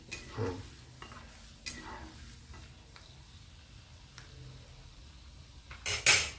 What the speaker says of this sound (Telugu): ఒక స్పూను గుండు మినపప్పు గుండు మినపప్పు కొంచెం ఫ్రై అయిన తర్వాత ఆవాలు జీలకర్ర వేసుకుంటే సరే